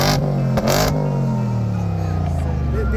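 Ordinary car engines revving at a Formula Drift event in the rain, a loud close engine whose pitch rises and falls in sweeping strokes, with brief clattering bursts near the start and no talk.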